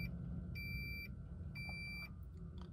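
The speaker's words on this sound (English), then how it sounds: "Some beeping." Two steady electronic dashboard beeps, each about half a second long, over a low hum inside a Coda electric car as the key is turned on.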